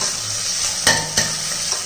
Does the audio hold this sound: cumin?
yes